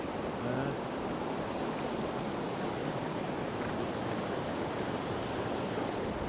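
A river rushes past close by at a village fishing spot, a loud, unbroken broadband roar of moving water that holds steady throughout.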